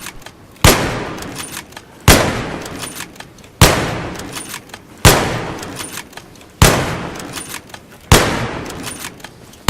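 Six sharp, loud rifle gunshots from the video game Battlefield 3 ring out at an even pace about a second and a half apart. Each crack trails off into a short decaying echo, with no talking.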